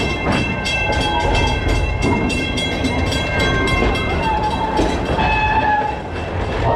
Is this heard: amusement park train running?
yes